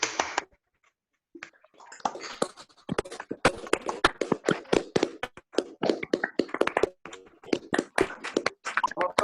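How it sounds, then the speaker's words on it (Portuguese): An online live audience applauds with microphones unmuted. A brief silence gives way to dense, scattered clapping from many participants that carries on steadily, slightly thin and compressed. "Olha só, palmas!"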